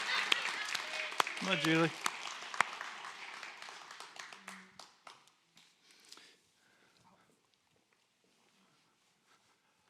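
Scattered audience clapping greets a guest walking to the stage at a live interview event, a voice calling out over it early on, then the claps thin and fade away.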